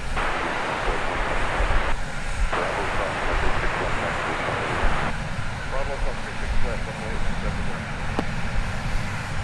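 Finnair Airbus A350-900 jet airliner, Flight 20 to Helsinki, at DFW Airport: a broad, wind-like engine roar that swells and shifts, loud and rushing, with a voice speaking over it at times.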